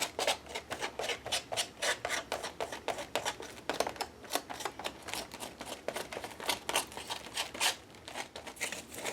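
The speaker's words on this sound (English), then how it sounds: "I'm going to come in here and scuff it up." Dried paint on an art surface is scuffed up for texture with quick, rhythmic scraping strokes that repeat steadily at close range, each stroke a short dry rasp.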